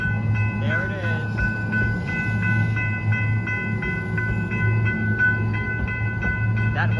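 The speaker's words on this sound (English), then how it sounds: "The driver gave me a horn show too" A Lynx light rail train at the 7th Street station railroad crossing sounds its horn in a series of loud, steady blasts with short gaps. A low rumble of the train runs continuously underneath.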